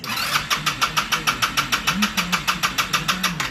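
A GY6 scooter engine runs with a steady, rapid pulsing beat, loud and close, its rhythmic chugging repeating evenly throughout.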